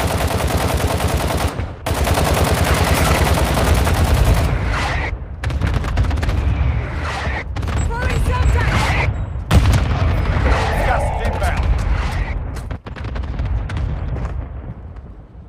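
An artillery fire mission strike in Warzone Mobile brings rapid bursts of gunfire and heavy booming explosions, loud and sustained with brief gaps between volleys, while a voice speaks intermittently.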